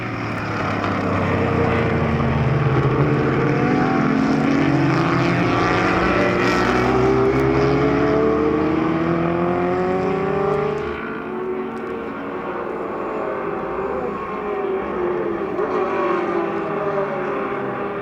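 A Ferrari 250 GTO's V12 screams past during a classic car race, its rising and falling engine note loud and close, then fading as other cars continue at a distance.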